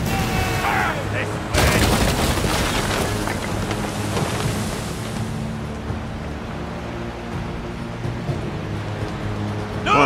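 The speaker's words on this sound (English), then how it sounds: "It almost seems kind of cruel dumping cannons into a whale." Heavy booming ship cannon fire in the video game Man O' War: Corsair erupts in a dense barrage at a whale over a constant roar of wind and sea, the blasts rumbling and overlapping.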